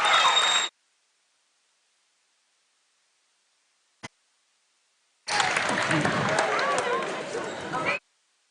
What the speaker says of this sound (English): All the fans here are really excited and clapping Jay.